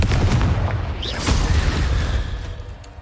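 A Confringo fire spell explodes in Hogwarts Legacy, a loud, close, low boom with a rumbling tail that fades over a few seconds.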